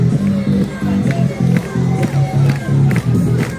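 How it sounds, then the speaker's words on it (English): A street-show crowd in Midtown Manhattan at night claps in a steady, rhythmic beat, with cheering and loud voices mixed in and close by. "Everybody clap."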